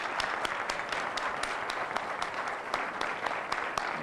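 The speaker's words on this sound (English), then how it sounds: "Please give me a round of applause for our speakers." Audience applause for the speakers at a lecture event, a dense continuous wash of clapping punctuated by sharp, distinct nearby claps standing out at a fairly regular pace.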